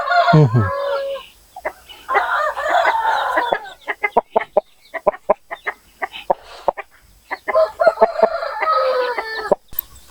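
A large country-breed rooster crows loudly up close, followed by a series of sharp, irregular clucks and calls from farm fowl, with another crow near the end.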